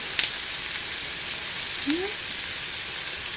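Olive oil sizzles in a pan with a steady, fairly quiet hiss throughout, broken by a small tick near the start and a brief squeaky scrape partway through.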